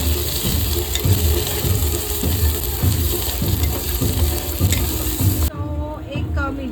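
Onion with ginger garlic paste fries in a pan, a dense steady sizzle with rhythmic stirring scrapes, then a brief whistle-like tone near the end.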